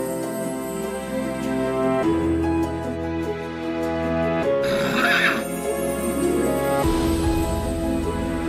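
A white horse conjured by a fairy godmother's magic in a Cinderella tale neighs loudly over a musical score, the whinny rising and falling across several seconds with faint hoof clip-clop.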